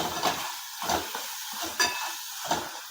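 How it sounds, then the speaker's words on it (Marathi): Tomatoes with salt sautéing in a pan for a pea and potato curry: a soft, steady sizzle broken by four or five rhythmic scraping strokes of the spoon, close by with no talking. "आणि हे आता आपण चांगलं परतून घेऊ जरा वेळ टोमॅटो."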